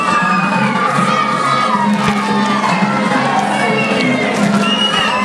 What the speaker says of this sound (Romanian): Și aplauze, aplauze pentru voluntarii de la Interact Club Onești.